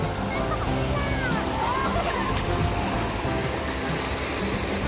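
Fast-flowing river water rushes steadily at a bathing spot, a dense continuous splashing roar close by, with a voice talking over it.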